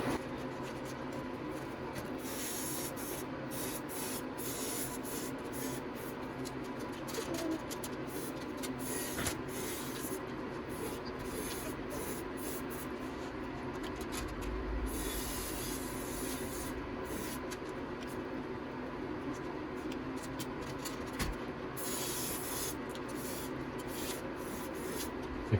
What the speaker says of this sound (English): I don't know if you can see here how it sprays, but it does something.